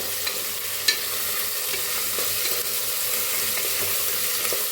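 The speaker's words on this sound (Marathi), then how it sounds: "असं बघा बारीक असं कुटून घेतलं मी, मिक्स करून घेऊया।" Finely crushed onion mixed into a sizzling pan, a continuous close frying hiss with occasional scrapes and taps of a spoon, no voices.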